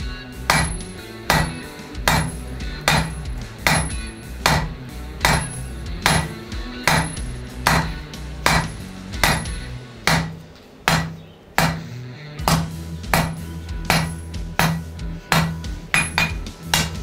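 A blacksmith hammers hot metal on an anvil during a forging demonstration. Sharp, ringing strikes land close and loud in a steady rhythm, roughly two per second, with brief pauses between bursts.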